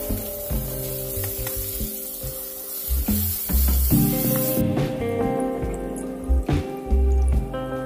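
Garlic paste and plenty of green chillies frying in hot oil in a pan for a street-style dal tadka, a loud continuous sizzle and spatter close up, broken by a few clattering stirs, with no voices.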